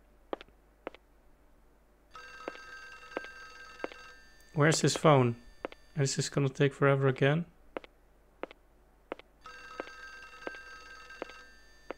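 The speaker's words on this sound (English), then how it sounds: "The phone is still ringing." A telephone ringing in the Windows 95 video game Clock Tower, a faint electronic ring in repeated bursts with a short pause of talk between them, alongside light clicking.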